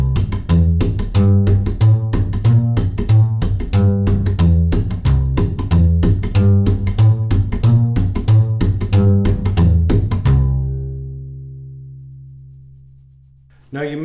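Rockabilly slap bass plays a swinging walking line, each plucked note joined by a sharp percussive slap in a steady brisk rhythm, loud and close, then a final note rings out and decays.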